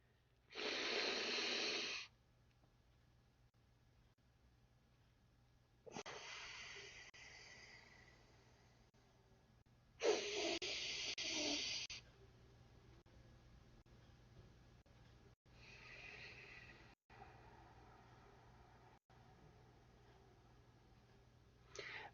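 Alternate nostril breathing exercise, heard as four loud, sharp nasal in-breaths spaced several seconds apart, each a forceful, hissing rush of air lasting about two seconds, with quiet pauses between.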